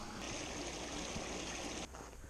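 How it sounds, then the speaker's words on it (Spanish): Steady murmur of flowing stream water at rocky natural pools, a continuous close rushing wash with no voices over it. "O aquí con el rumor del agua."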